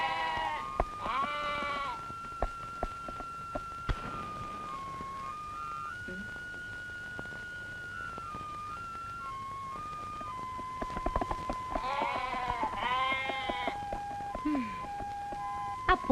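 A goat bleats in a film scene, its wavering calls heard near the start and again in a louder cluster toward the end, while a soft whistled melody and background noise run through between.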